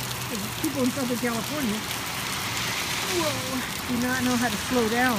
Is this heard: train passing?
no